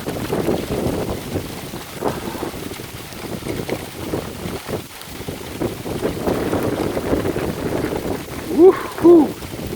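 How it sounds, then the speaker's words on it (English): A hail shower in Andover, falling under a sunny horizon, makes a steady, dense hiss of pattering ice, a fairly close wash of sound. A voice breaks in near the end. "And just look and listen to that hail."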